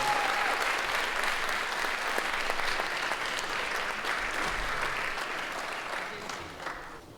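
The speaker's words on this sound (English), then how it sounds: "Please give her a wonderful round of applause." Steady audience applause at an Indian classical music and dance festival, a warm full round of clapping from the hall that gradually fades over its final seconds.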